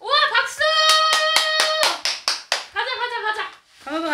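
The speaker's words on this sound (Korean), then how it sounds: "박수!" Several sharp hand claps in a quick, even run, near and clear, while a bright voice sings or calls and children chatter at a home during a playful daytime moment.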